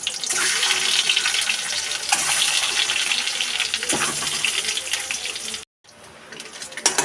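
Boiled eggs drop into hot mustard oil in a kadai for white egg curry, giving a loud, steady close-up sizzle and crackle that cuts out briefly near the end before resuming.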